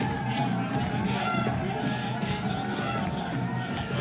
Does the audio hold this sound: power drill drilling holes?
no